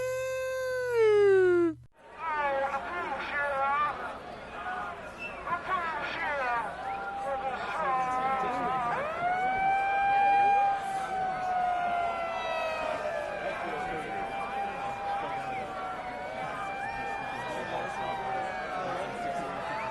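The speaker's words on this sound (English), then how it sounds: "he just turns the megaphone on to the siren" A megaphone's siren setting wails over a crowd at a Ween show, rising and falling in long warbling sweeps after a brief cutoff, with people talking and shouting underneath.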